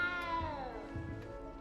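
A little cat in Hogwarts Legacy gives one drawn-out, wavering meow that bends downward in pitch, heard alone over a low game background.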